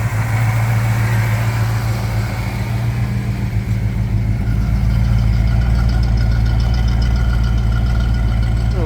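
Supercharged Vortech Foxbody Mustang engine idling steadily, a deep continuous low rumble with a constant even tone, close and loud throughout with no talk.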